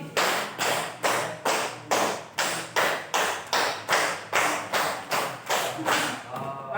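A long run of about a dozen steady, evenly paced hand claps, close and loud, each a sharp smack fading quickly before the next.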